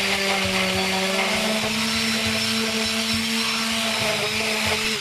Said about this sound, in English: My orbitable sander removes any of the last burrs